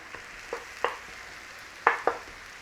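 Coconut milk cooking down in a pan for a chickpea curry, with a utensil scraping and tapping against the pan in a few separate soft knocks over a quiet low simmer.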